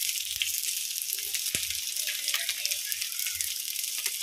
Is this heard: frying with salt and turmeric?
yes